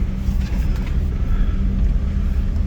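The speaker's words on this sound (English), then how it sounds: "this car is fully registered and I'm only driving it on private owned roads" An old car with a patina finish, driven on private roads, rumbles steadily with a low engine and road drone throughout, close and continuous with no talk.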